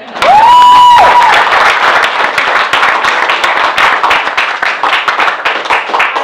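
An audience at a press event on achievement gap legislation breaks into loud, close, dense clapping that holds steady throughout, briefly joined at the start by a whistle-like tone.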